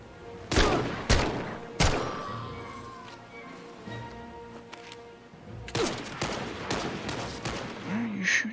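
Gunfire from the VR shooter Medal of Honor: Above and Beyond: several sharp, loud shots stand out early, then a busier stretch of rapid firing and battle noise follows. A voice talks faintly underneath.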